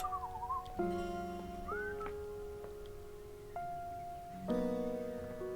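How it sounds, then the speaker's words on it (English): Whistled melody in the video game Date Everything!, clear sustained tones stepping between pitches with a brief sliding squeak, moderately quiet, alone with a light background. "I hear whistling."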